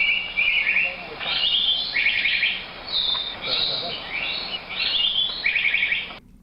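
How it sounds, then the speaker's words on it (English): Recorded bird calls played back to lure birds in Taiwan, a series of bright repeated chirping phrases in quick bursts, loud and clear, with the playback cutting off abruptly at the end. "They cheat and use recordings to attract the birds."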